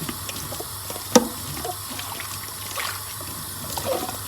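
Tap water trickles and splashes while dishes are washed in a shared communal kitchen, a steady soft running flow with one sharp clink of crockery partway through.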